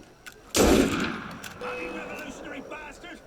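Gunfire in a first-person video game, a loud close burst of shots followed by a fading echo and quieter game sounds, without any voice over it.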